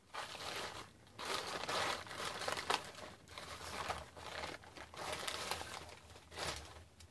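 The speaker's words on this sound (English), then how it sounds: "And I just love her tissue paper." Tissue paper from a mail swap package crinkles and rustles continuously for about seven seconds in close, loud bursts of crumpling, with no talking.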